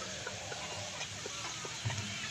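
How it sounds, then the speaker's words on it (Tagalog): A rooster on a Philippine farm gives soft, repeated low clucks in a quick broken rhythm, faint against steady outdoor background noise. "So ito yung isang tandang namin dito."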